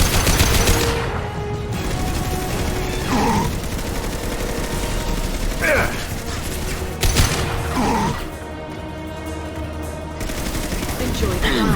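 Weapons firing in Mass Effect Legendary Edition combat, sustained volleys and sharp shot impacts layered over game music, with occasional voices beneath the steady, loud barrage.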